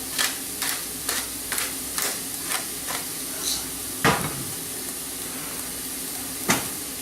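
Onions seasoned with kosher salt and black pepper fry in a pan, stirred with a series of soft scraping strokes, roughly one every half second at first and then spaced out, over a steady low sizzle, close and moderately quiet.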